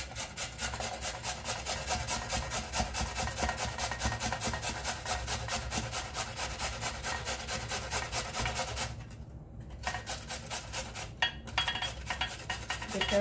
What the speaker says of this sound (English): our potatoes, peeled potatoes are ready. So we just have to quick grate for this.